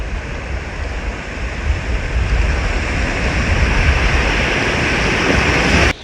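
Sea waves at Digha beach crash and wash ashore in a loud, continuous broadband roar that swells slightly midway, with wind buffeting the microphone and no talk.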